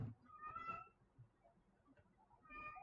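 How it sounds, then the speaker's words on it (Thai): A pet cat meows twice indoors, a drawn-out mew near the start and another at the end, fairly close and clear with quiet room tone between. "นักเทรดมีเพื่อนเป็นแมวนะฮะ"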